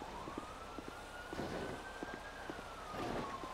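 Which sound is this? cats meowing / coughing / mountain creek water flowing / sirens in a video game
sirens in a video game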